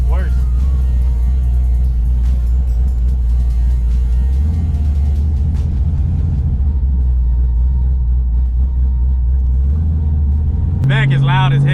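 Deep, loping engine rumble from a cammed 2012 Chevy Camaro SS V8 idling close by with an uneven lumpy pulse, swelling into a louder rev near the end while someone talks over it.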